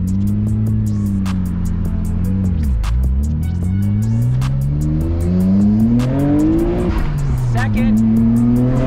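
A Nissan R32 GTR pulls away in first gear, its engine droning and rising in pitch with a brief dip partway, loud and close throughout, with steady ticking from inside the car.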